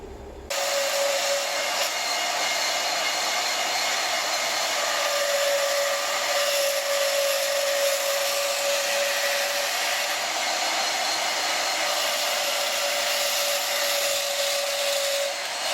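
A power tool whines continuously and steadily, close and loud without pause, while cutting out a brass dress hook in a blacksmithing workshop.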